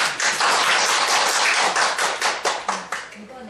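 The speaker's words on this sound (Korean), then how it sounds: "마지막이니까 박수 좀." A small audience at an elementary school reading debate contest claps in a steady patter of individual hand claps, close and fairly loud, tapering off toward the end.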